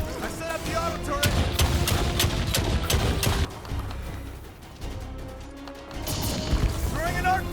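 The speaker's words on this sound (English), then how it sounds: "I set up the auto turret." Rapid gunfire from an auto turret in the Earthfall shooter game, sharp repeated bursts with crashes and game effects, and players talking over the action.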